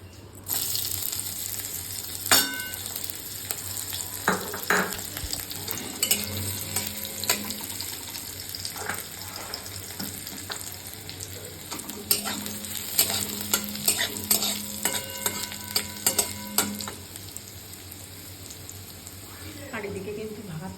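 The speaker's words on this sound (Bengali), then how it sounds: "যে শাকটা কালকে কেটে রেখেছিলাম ধুয়ে নিলাম ভালো করে আর কিন্তু রসুন আর লঙ্কাটাও কুচিয়ে নিয়েছি শাকটা করে ফেলবো" Chopped greens with garlic and chili are fried in a pan. A soft sizzle runs under repeated stirring and scraping strokes with occasional metallic clinks, and a voice is heard now and then.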